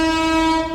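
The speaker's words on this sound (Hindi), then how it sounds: "इधर देखो भाई लोकल ट्रेन आ रही है" A local train near Akshardham in Delhi sounds its horn, a loud, close, sustained harmonic blast filling the whole moment.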